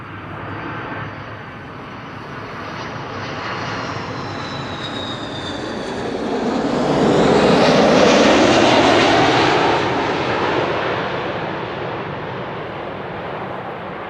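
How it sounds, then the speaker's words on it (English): An Airbus A330 cargo freighter jet passes over Amsterdam Schiphol, its engine roar building from a distant rumble to a loud close pass with a sweeping tone, then receding. "that's a double-chinned A330 cargo freighter"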